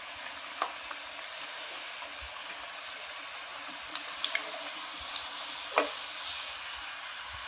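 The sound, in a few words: singara (samosa) frying in oil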